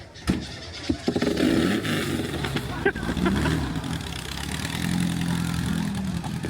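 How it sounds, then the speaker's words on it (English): A Volkswagen Type 3 Notchback engine starts and runs with a loud, rumbling exhaust idle, close by, while people talk nearby. "Oh, naughty exhaust."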